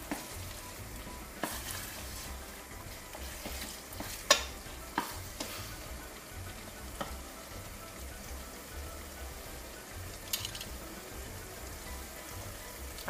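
Garlic and cumin frying in a pot for Sfax-style fish couscous broth, a steady soft sizzle throughout with a few sharp clicks of stirring utensil against the pot.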